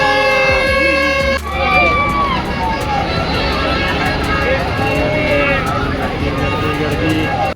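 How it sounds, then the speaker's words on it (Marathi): At a village yatra fair in Thanapada, a dense crowd murmurs all around amid a loud mix of music, horn-like tones and passing vehicles, with voices talking close by throughout. "गर्दी गर्दी"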